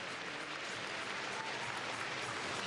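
Sustained applause from an arena crowd at a 2012 Grand Prix Final figure skating event, cheering Daisuke Takahashi's short program; dense, steady clapping that fills the space without letup.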